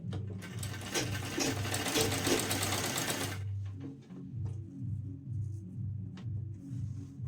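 An electric sewing machine stitches a fabric strip for a neck design, running in a fast loud whir at first, then switching to slower, evenly spaced single mechanical stitches.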